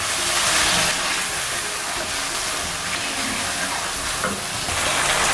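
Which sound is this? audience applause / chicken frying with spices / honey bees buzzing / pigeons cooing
chicken frying with spices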